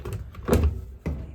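A drawer slides open with a couple of short wooden scrapes and a soft thud, close by and fairly quiet.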